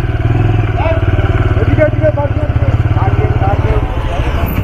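A motorcycle engine idles close by on a Kolkata to Taki ride, a loud, steady low throb with a rapid pulsing rhythm lasting the whole stretch.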